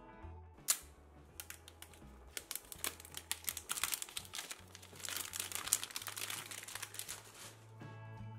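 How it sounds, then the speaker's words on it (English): Plastic wrap comes off a white 2020 iPhone SE box with close, crisp crinkling and crackling in irregular bursts, and sharp snaps between the softer rustles. "I just love how easy Apple makes it for us to unwrap this plastic"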